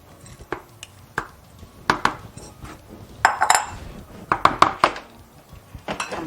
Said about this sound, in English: Here I'm going to go ahead and add my diced fruit and all of the wine that was with it.